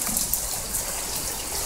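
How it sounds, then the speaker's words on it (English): Rainwater pouring into garden rain barrels during a rainy day, a continuous hissing trickle and splash of water, steady and close. "It is raining and I'm getting free water again because the barrels is filling back up"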